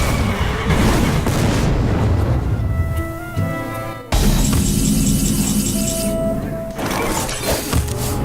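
A loud in-game explosion from the card game Hearthstone bursts out with a sharp boom and shattering crash, followed by bright magical chimes and ringing effects over a busy, music-laden background.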